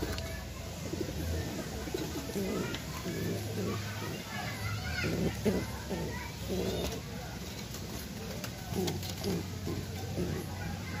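A pigeon coos in low, soft, repeated phrases outdoors. Children can be heard playing and talking throughout, with other bird calls in the background.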